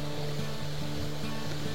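A fast-flowing river rushes loudly and continuously at the meeting point of the Elo and Progo rivers, a dense broadband roar with a steady low hum beneath it and no talking.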